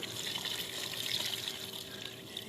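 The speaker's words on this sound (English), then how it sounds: "you're just going to put enough water to cover everything that's in the pot." Water pouring steadily into a stock pot of chicken stock ingredients, a continuous close splashing and trickling stream with no talking.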